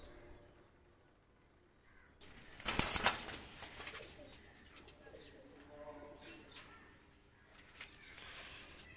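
Pakistani high flyer pigeons give soft cooing calls, and a brief burst of wing flapping rises in the middle, near and fairly faint, with light rustling around it and no talk.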